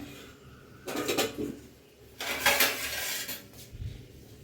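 A pot of drumstick greens cooked with mango and dal gets covered with its lid, giving two short bursts of metallic clatter and scraping, close and moderately loud, with quiet gaps between.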